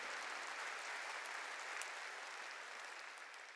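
Steady applause from a church congregation, continuous and even throughout, heard from some distance.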